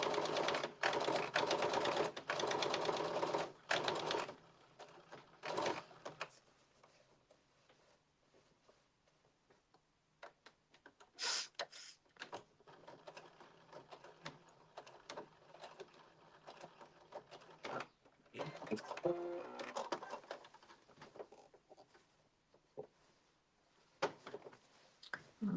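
A sewing machine stitches the collar of a KnowMe blazer, with a loud continuous run of stitching at the start, then quieter, intermittent bursts of stitching later on.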